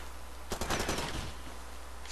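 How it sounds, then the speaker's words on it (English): An ammo pile cooking off in the video game Far Cry 2 sends out a short burst of rapid gunfire-like pops, a quick rattling volley that fades within about a second. "Don't stand up, the ammo pile's kicking off."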